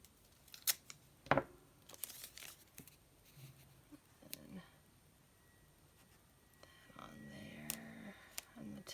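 Tape is pulled and pressed onto paper in short crisp rips, crackles and rubbing taps, quiet and close, with soft pauses and low background noise between the bursts.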